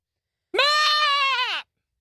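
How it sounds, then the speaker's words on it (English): A screaming goat sound effect delivers one loud, drawn-out bleating scream of about a second, sharp at the start and wavering in pitch. It stands alone against silence. "How about Whitney Houston featuring Screaming Goat?"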